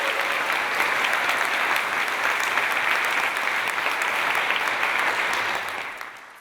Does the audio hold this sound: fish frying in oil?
no